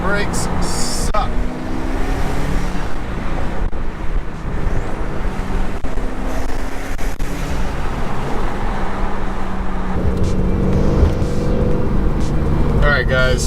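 A 2016 Subaru WRX with a Stage 2+ tune and a newly installed donut gasket drives along, its exhaust rumbling steadily beneath road noise while people talk over it inside the cabin.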